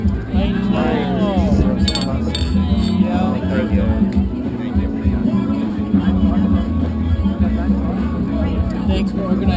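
Glasses clink in a toast among a group at a Key West sunset gathering, a few bright chinks over crowd chatter, voices and the low hum of boat engines.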